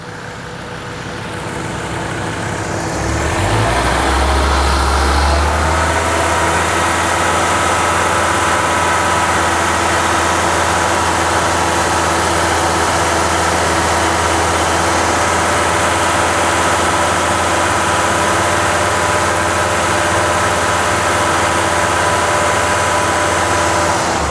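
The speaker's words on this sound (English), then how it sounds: "I'm going to raise the RPMs a little bit and see if we can bring this down." Car engine idling with RPMs raised during an R-12 to R-134a AC retrofit and recharge; a steady, loud, continuous hum that swells up after the first few seconds and then holds level throughout, with no talking.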